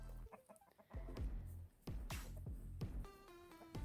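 Chickens cluck among cattle and bulls on a farm, with a run of close, loud clucks and squawks ending in a longer drawn-out call.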